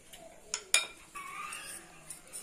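A spoon stirs three tablespoons of custard powder into milk in a bowl, with faint scraping and a few sharp clinks of metal against the bowl, quiet and close.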